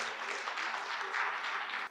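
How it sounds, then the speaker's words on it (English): An audience applauding at a stage event, a steady wash of clapping hands that holds for a couple of seconds at moderate loudness, then cuts off abruptly. "We should all give a big round of applause."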